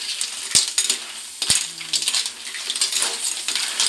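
Clams (halaan) tumbling into a pot for seafood caldereta, sharp shell clinks and clattering knocks against the metal, a few distinct hits followed by softer rattling and stirring.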